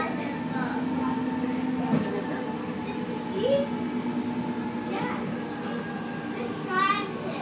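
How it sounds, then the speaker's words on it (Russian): A new train on the Orange Line rolls over a bridge, giving a steady rumbling hum with tonal whines and occasional squeals, while children and adults talk inside the carriage. "Мы едем по новому мосту, в новом поезде,"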